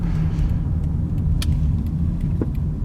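A car driving along Asylum Street in Norwich, Connecticut, past a school zone, heard from inside as a steady low road rumble and engine drone with faint small rattles and no speech.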